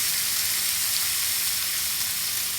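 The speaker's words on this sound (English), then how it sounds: "You hear that sizzle. That's what you want for a nice steak." Steak searing in a hot oiled pan on high heat, a continuous bright sizzle and hiss that stays loud and even throughout, with no talking.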